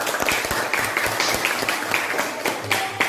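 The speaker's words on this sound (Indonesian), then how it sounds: "Tepuk tangan dulu untuk kelompok." Classmates in a teaching-practice session clap for a presenting group, a modest, uneven round of applause with individual hand claps standing out close by in a small room.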